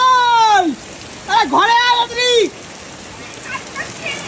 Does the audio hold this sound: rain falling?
yes